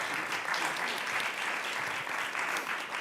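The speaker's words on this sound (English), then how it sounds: "And so let's just give a round of applause." An audience at a history conference claps for a new book's co-authors, a dense, sustained round of applause that stays even and full for the whole stretch.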